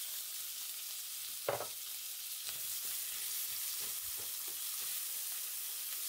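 Onion frying in oil with a piece of cinnamon and a little chana dal, a low steady sizzle throughout with a brief louder crackle and stir near the start, close and alone.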